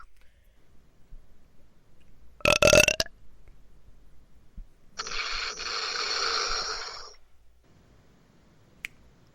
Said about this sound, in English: Boy, that was a powerful belch.